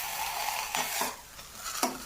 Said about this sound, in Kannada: ಈಗ ಒಗ್ಗರಣೆ ಹೊತ್ತಿಗೆ ಒಗ್ಗರಣೆ ಹಾಕಿ